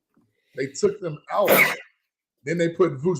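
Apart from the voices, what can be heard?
sneeze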